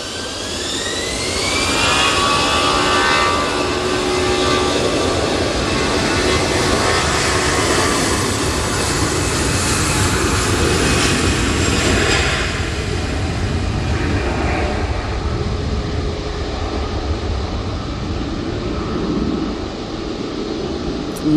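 A KLM airliner lands at Manchester Airport in stormy conditions, its jet engines roaring loud and close, with a sweeping rise and a long, steady rush of engine and wind noise that slowly eases.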